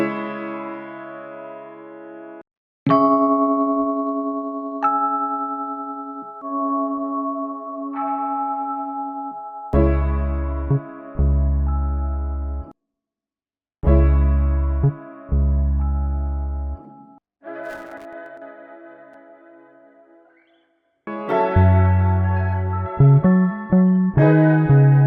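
Processed piano sample with EQ, waveshaper distortion and light reverb plays alone as sustained chords and single notes in separated phrases, with deep bass notes entering in later bursts.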